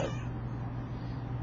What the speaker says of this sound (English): my world-famous pet cat